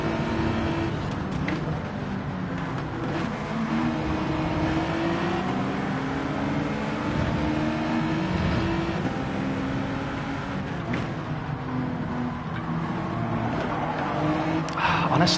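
A Honda NSX race car in Gran Turismo 7 holds a steady engine drone through corners, with tires squealing and skidding under sustained revving, loud and continuous throughout.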